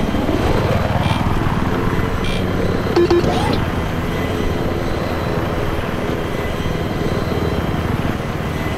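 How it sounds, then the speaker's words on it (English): A helicopter's steady rotor drone in the video game Battlefield 3 fills the scene, loud and continuous, with a brief higher mechanical whine partway through and low rumbling underneath. "Enemy helicopter spotted, over."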